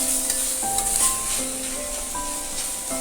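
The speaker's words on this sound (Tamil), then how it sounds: "நல்லா வணக்கிடுவோங்க. அப்போ தாங்க அது டேஸ்ட் வரும்." Drumstick tree leaves sauté with spices in a pan. A continuous close sizzle runs under occasional stirring scrapes, and a faint tonal background hums along.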